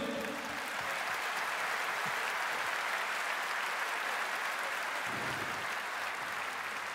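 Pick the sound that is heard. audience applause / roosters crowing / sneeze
audience applause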